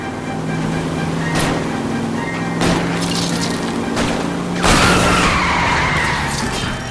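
Cars collide and skid in the video game L.A. Noire as one rams another and spins it out, with repeated metallic crunches over a steady engine drone and a long screeching skid near the end.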